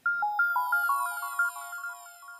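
A wristwatch alarm beeps in a rapid, steady electronic melody of bright tones that repeats throughout, close and fairly loud with no talking.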